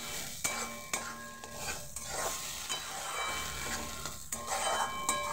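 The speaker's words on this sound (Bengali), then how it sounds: "এটাকে ভালো করে আমি কষাবো।" Bean mash (sim vorta) being stir-fried in a pan, with a steady sizzle and repeated scraping stirs of a utensil against the pan.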